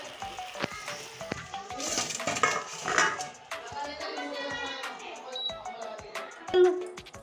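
Fried soybean chunks are scooped from a wok of mustard oil with a metal spoon, giving sharp clinks and scrapes over a soft, steady sizzle. Someone talks over the kitchen sounds.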